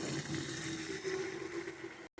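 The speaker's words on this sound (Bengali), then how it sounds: "এবার বেটে রাখা সর্ষে বাটার জলটা দিয়ে দেবো।" Mustard paste mixed with water is poured into a fish curry cooking in a pan, giving a steady, close, continuous watery rush that ends abruptly near the end.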